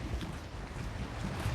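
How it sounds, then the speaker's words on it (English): Wind buffets a microphone behind a makeshift wind guard along an outdoor walking path beside a wall, producing a steady low rumble with gusty swells throughout and no voices. "it is definitely windy out here today"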